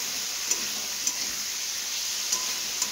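Paneer curry masala sautéing in oil in a kadai, a steady soft sizzle with faint clicks of stirring at intervals, no voices.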